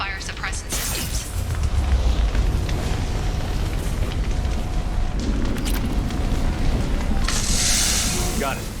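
Damaged pipes burn in Mass Effect 2, a steady loud roaring rush of fire and hissing that fills the whole stretch, with a brighter hiss near the end.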